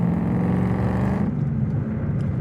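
A 2022 Ford Mustang Mach 1 cruises on open road, its V8 giving a steady, close, deep rumble that eases off slightly halfway through as the tone drops and the hiss fades.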